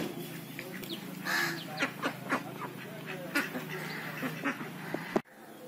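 A flock of many ducks quacks nearby in a loose, overlapping chorus of nasal calls, with a few louder bursts standing out over a low background murmur.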